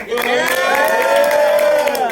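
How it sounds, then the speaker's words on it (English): A live studio crowd at a class-based athletics show finale cheers and whoops loudly and steadily, a dense sustained roar of many voices close by with no pause. "As you can see by the crowd. And then get loud."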